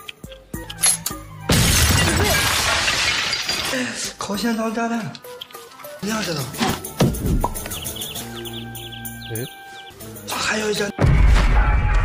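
A loud blast from exploding chewing gum bursts through a glass door with shattering glass, set among talking voices, chirpy effects and other busy sounds, followed later by another sharp crash.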